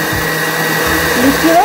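An electric blender whirs steadily, loud and close, blending salsa, its motor pitch shifting slightly toward the end.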